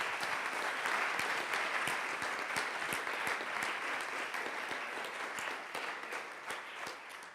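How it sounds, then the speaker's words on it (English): Sustained audience applause filling the room at the close of a conference session, dense steady clapping that stays strong throughout and thins slightly toward the end, with no talk over it. "So I would ask a big applause for all of them."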